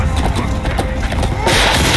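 A horse gallops in the medieval combat game Chivalry 2, loud clip-clopping hoofbeats with a neigh, close and prominent amid battle noise.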